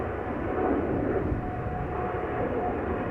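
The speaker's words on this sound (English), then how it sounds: "So this is Emirates flight 146 going back to Dubai." Emirates Boeing 777-300ER jet departing Amsterdam Schiphol Airport, a steady broad roar of engines at moderate distance, continuous and unchanging throughout.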